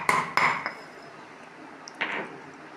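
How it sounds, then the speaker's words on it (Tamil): Garlic cloves pounded in a stone mortar: two quick, bright ringing knocks close together, a lighter tap, then another knock after a pause, each with a short metallic-stony ring, near and alone. "முதலில் பூண்டை இடிகல்லில் போட்டு"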